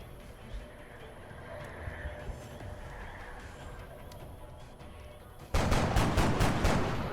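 Rapid burst of about half a dozen loud gunshots in XCOM: Enemy Within, cracking out after several seconds of low ambient game noise.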